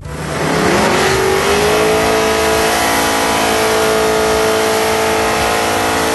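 A drag car on Mickey Thompson ET Street tube-type DOT drag tires, 4-ply tread with 2-ply sidewalls, launches hard off the line with a little wheel stand; the engine roars up loud and close, then holds a sustained high-rev pull.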